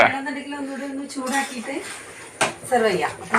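A big pot of kappa biriyani with beef being stirred, metal spoon scraping and clinking against the pot while people talk over it.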